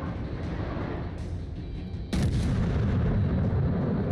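Heavy naval gunfire in the World of Warships video game, with booming blasts over a dense rumbling background and a louder, fuller volley breaking in halfway through.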